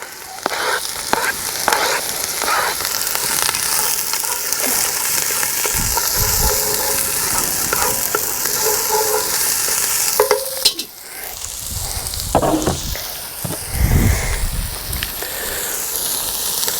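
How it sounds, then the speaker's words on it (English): Onions drop into a hot pot over chili for a red fish curry, cooking outdoors, with a loud, continuous close sizzle and hiss, stirring scrapes, and a brief dip before the frying surges again. "In goes our onions. It's a good sizzle, pot's nice and hot."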